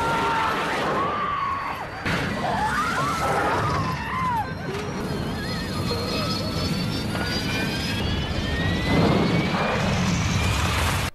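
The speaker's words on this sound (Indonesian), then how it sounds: "pesawat mengalami turbulensi yang cukup parah, sehingga mengakibatkan pesawat terbakar dan meledak di udara" In a film scene, an airplane bursts into flames and explodes in the air: a loud, sustained engine roar with crashing, tearing bursts and whining tones, while a narrator talks over it.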